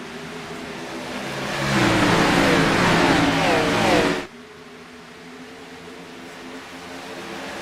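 Race cars in a Speed Racing Network Xfinity Series recruitment race at Atlanta roar away at the green-flag start, engines swelling loud as the field accelerates, then cutting off abruptly to a lower, steady engine drone.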